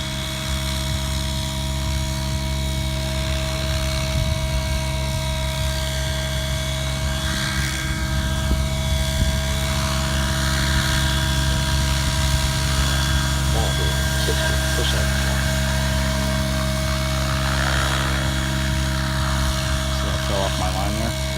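A model helicopter practicing inverted flight hovers nearby with a steady, high rotor whine that holds level throughout, while a voice talks faintly beneath it.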